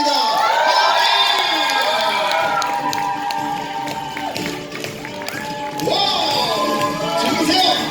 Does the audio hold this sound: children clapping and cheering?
yes